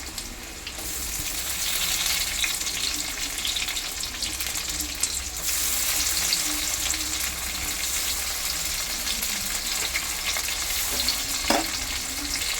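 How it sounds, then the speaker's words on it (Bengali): Chopped onion and tomato fry for an egg curry in hot oil, a loud continuous sizzle with occasional stirring scrapes, close and steady, with no voice over it. "পেঁয়াজ কুচি, আর দেবো টমেটো কুচি।"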